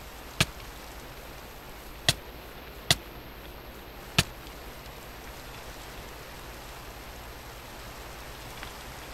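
Steady rain hiss from Minecraft falls throughout, with a few sharp isolated clicks standing out above the even wash of noise; no one speaks.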